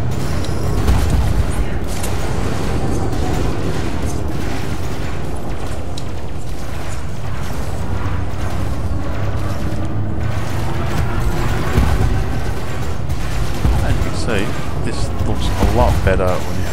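Spaceship cannons fire from an Anaconda battleship in Elite Dangerous, loud booming bursts and mechanical thuds layered over a dense, rumbling engine and combat din, with a synthetic ship voice speaking over it.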